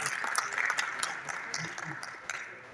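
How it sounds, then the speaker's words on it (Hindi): Audience at a Republic Day poetry ceremony and award function applauding, a moderate spread of clapping with sharp individual claps, partly under a speaking voice. "तालियां बजाइएगा बड़े मन से,"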